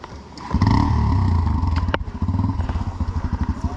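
Motorcycles bump-started from a dead engine race start, engines catching and revving loudly close by amid clattering and scraping, with a rapid pulsing engine beat as bikes pull away.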